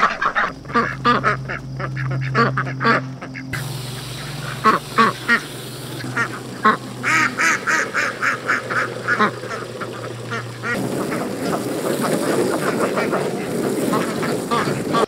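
Ducks quack in loud, repeated rhythmic bursts, nearby, with geese-like honks mixed in and a busy outdoor hum between calls.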